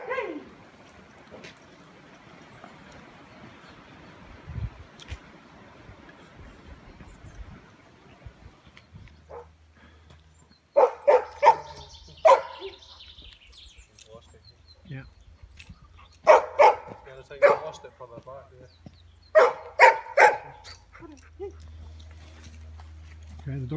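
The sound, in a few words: scent discriminating search dog barking and whimpering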